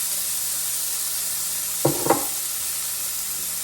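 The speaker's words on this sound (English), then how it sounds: "So moving over to the skillet, I'm just doing a spritz of olive oil, dump the potatoes in." Potatoes dumped into a skillet with a spritz of olive oil, two quick close bursts of clatter and sizzle over a steady frying hiss.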